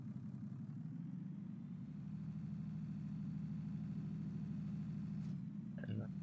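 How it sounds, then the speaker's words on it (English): A tractor engine idles steadily in a farming game, with a low, even drone that holds for several seconds. A faint clatter comes near the end. "And here, get my tractor out of there."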